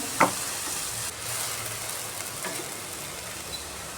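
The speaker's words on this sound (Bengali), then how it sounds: "জল জড়িয়ে রাখা চাউমিনটা দিয়ে দিলাম" Chowmein noodles, drained after soaking in water, hit a hot pan in a steady close sizzle with a sharp clack near the start and a faint hiss throughout, no voices.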